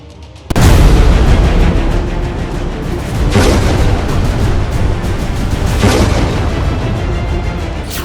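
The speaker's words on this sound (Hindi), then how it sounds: "अब ये जो दो धमाके हुए हैं" A sudden deep boom from air strikes bursts in, then a sustained roaring rumble with two further blasts swelling through it, heavy and loud.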